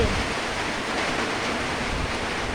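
Heavy rain pouring down steadily over rice fields at Phu Pha Aek, a dense, even hiss that stays loud and unbroken throughout.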